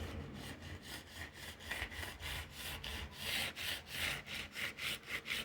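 Sandpaper rubs steadily back and forth across guitar fret ends in quiet, close, rhythmic strokes that grow slightly quicker and stronger toward the end.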